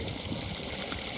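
Groundwater is pumped into a fish pond in winter, giving a steady, close rushing and gurgling of flowing water with no breaks.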